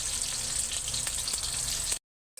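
Food toasting in a hot frying pan gives a steady, bright sizzle with light crackles, close and alone, stopping abruptly near the end.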